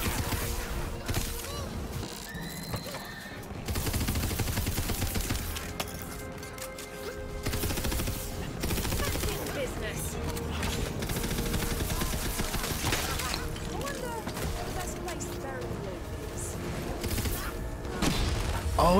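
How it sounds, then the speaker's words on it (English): Dense, loud gunfire from the video game Tiny Tina's Wonderlands, with rapid bursts and impacts layered over game music and effects, nearly continuous for the whole stretch. "Try to shoot the barrel."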